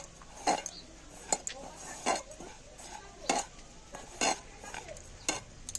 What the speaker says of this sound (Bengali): এটা মিক্সিং কম্পোস্ট বিশেষ করে কোকোপিট আর কম্পোস্টটা মিশিয়ে নিলাম।